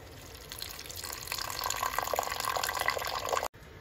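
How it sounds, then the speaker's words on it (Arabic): Water poured from a tap or jug into a cooking pot, a continuous close splashing fill that grows louder and fuller before stopping abruptly near the end, with no talking. "غادي نزيد الماء"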